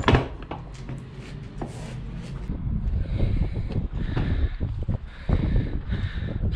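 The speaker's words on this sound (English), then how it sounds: "So I'm gonna close this door" A silo door on a farm is swung shut, with metallic clunks, scraping and rattling mechanism noises over steady wind buffeting the microphone, ending in a heavier thud.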